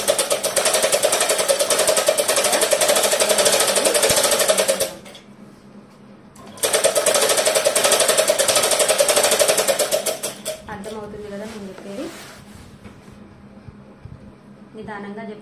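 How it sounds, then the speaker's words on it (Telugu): A sewing machine stitches a folded lining of a long frock in two loud rapid bursts separated by a pause, then softer handling sounds and quiet talk as the stitching stops. "సో లైనింగ్కి ఒక ఫోల్డ్ వేసుకొని కుట్టేసుకుందాం."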